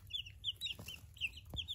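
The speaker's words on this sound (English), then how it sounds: "those are the 10 hens that we got afterwards" Ten hens in a backyard flock keep up soft, rapid clucks in quick overlapping bursts, close by and quiet, with a couple of faint low thumps between calls.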